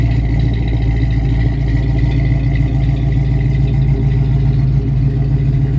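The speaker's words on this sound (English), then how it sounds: "Everything that I think a Mustang should sound like. Very Flowmaster style exhaust." A 1970 Ford Mustang convertible with a Summit Racing exhaust idles close by, giving a loud, steady, throbbing burble that stays even throughout with no talking.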